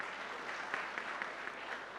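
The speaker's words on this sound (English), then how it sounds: "Applause to him." An indoor audience at a sports injury centre claps steadily, a dense even burst of applause lasting about two seconds.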